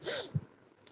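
A single sharp sneeze bursts out near the mic during an online women's fellowship prayer meeting, followed by a short breathy snort and then quiet.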